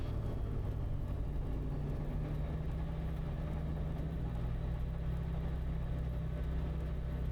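A light aircraft engine runs at raised power while rolling on a runway, a steady low drone with a faint whir heard from inside the cabin, with no talking.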